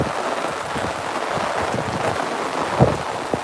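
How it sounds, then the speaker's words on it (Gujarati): Heavy, continuous downpour over fields in Radhanpur taluka during a violent thunderstorm, a dense steady wash of rain with a brief louder crack or rumble near the end; no voices. "મુસળધાર વરસાદ પડી ગયો છે ભયાનક તુફાન સાથે"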